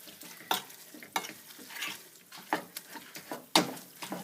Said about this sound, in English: I've turned it off, and I'm still stirring it.